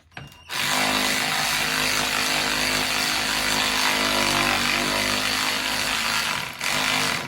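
A power tool whirs loudly and steadily while a part is loosened during installation of a starter on a 2015 Honda 500. After a brief start-up it runs continuously, with a short dip near the end.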